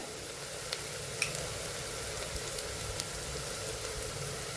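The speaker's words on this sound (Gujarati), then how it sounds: "1 ચમચી આદુ મરચાંની પેસ્ટ, 1 ચમચી જેટલી આ લસણની પેસ્ટ ઉમેરી દઈશું। એ પણ સરસ આપણે સાતળી લેવાનું છે।" Onion sautéing in a pan with ginger-chili paste and garlic paste for pav bhaji, a steady soft sizzle and frying hiss with a few light clicks of stirring, continuous and fairly faint throughout.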